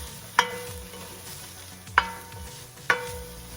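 Red pepper flakes, cumin, turmeric and curry sauté in a pot for a spicy lentil soup, a low steady sizzle punctuated by three sharp clicks of a utensil knocking the pan at even intervals, with no voices.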